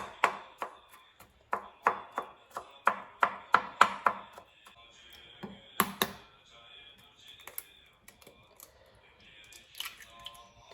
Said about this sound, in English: Chop into small pieces.